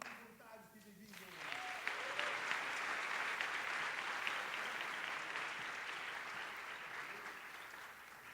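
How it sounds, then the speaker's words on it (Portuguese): Audience applause for volunteers at a TEDx talk, starting after about a second of someone speaking and then swelling into steady, dense clapping from a large crowd that continues loudly to the end. "E palmas para os voluntários que vêm vindo."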